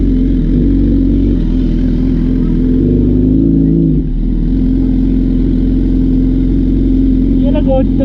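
Motorcycle engine idling and running close by in the evening, a steady loud drone that dips briefly midway, with people talking over it.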